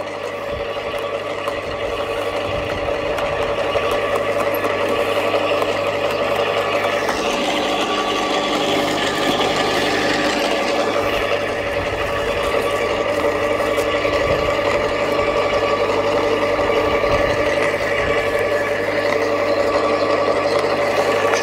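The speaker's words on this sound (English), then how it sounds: "There we go, it's working, it's shredding up." Aldi Ferrex Impact garden shredder mulcher chopping cut tree branches, a continuous steady motor drone with a strong tonal hum and faint knocks as wood feeds through, fairly loud and without talk.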